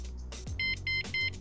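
An e-bike's alarm arms with three short, evenly spaced electronic beeps. They are clear and close over a low background hum.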